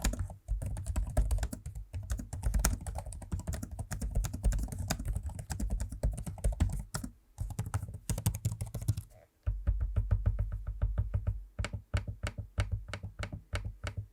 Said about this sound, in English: Here's a quick audio sample of me using both the keyboard and trackpad so you can hear for yourself what they sound like.